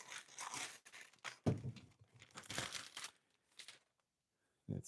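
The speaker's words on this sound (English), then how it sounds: "I have this in this plastic bag." A respirator mask is pulled from a plastic bag in a home workshop set up for airbrushing car interior parts, giving several bursts of loud close crinkling and rustling, then a pause and a final rustle.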